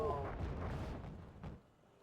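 Aircraft bombs exploding in the real-time strategy game Wargame: Red Dragon: a rumbling burst of low booms that fades out, with a fainter second thud near the end.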